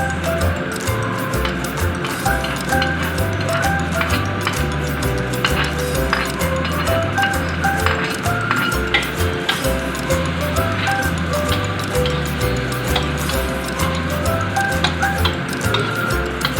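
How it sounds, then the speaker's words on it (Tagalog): Carrots being stirred into browned pork and beef in a pan for Italian spaghetti, a steady sizzle with scraping and clinks running continuously at moderate loudness, no talking. "Haluin lang natin mabuti."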